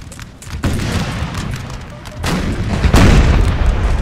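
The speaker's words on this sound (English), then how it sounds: "It's a massive backblast from this cannon." Cannon fire booms in the video game Napoleon Total War, two loud heavy blasts with rumbling aftermath and crackling battlefield noise between them.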